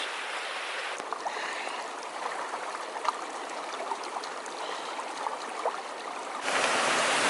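Water from a waterfall rushes continuously, a dense, even roar close by that grows louder near the end, with no voices.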